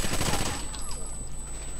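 Rapid gunfire in the video game Rainbow Six, shot through a wall, bursts loud and close at the start and then trails off into lower rumbling noise.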